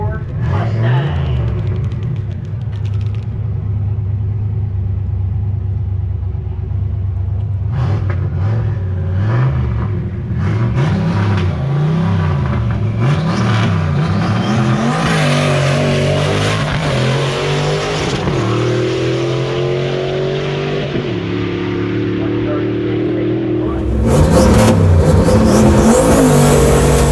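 An electric 2021 car runs at a drag strip, its motor whine rising and falling in pitch as it accelerates, with an engine roar swelling near the end and voices heard throughout.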